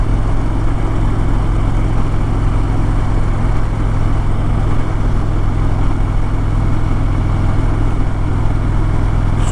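A Harley-Davidson Road Glide motorcycle cruising on the highway at about 80 mph, its engine a steady, continuous low drone mixed with wind rush, loud and unbroken throughout with no voices.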